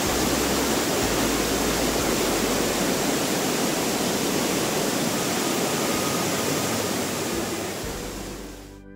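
Amboli waterfall pouring down as a loud, continuous broadband roar of rushing water, steady and close, fading slightly at the very end, with no voices.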